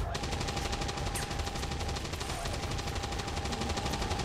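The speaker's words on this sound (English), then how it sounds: "What use is suppression fire if it doesn't hit?" Sustained automatic gunfire from suppression fire in the video game XCOM 2, a rapid, continuous rattling burst held at steady loudness throughout, with no clear talking over it.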